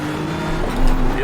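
BMW M4 GT3 race car engine droning close by in iRacing at Imola, a steady tonal whine that swells near the end as another car draws alongside, with a voice talking over it.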